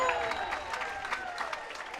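Baseball fans clapping in the stands after a strikeout at an IBL playoff game, Toronto Maple Leafs at Barrie Baycats, a steady spatter of mid-distance applause with light crowd murmur.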